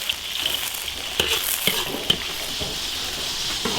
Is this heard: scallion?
yes